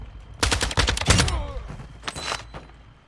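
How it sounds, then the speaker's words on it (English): Grenade explosions thrown by bots in a video game burst in a rapid cluster of loud blasts, followed by a fainter second burst and decaying rumble. "Someone threw a grenade. Yeah, the bots are throwing grenades."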